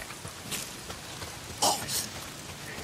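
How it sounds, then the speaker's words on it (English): Steady rain pouring in the video game Days Gone, a constant broadband hiss of falling water with occasional brighter splashes, continuous and even without any voices. "If it's not the freaks, it's the goddamn rain. Why is it always raining?"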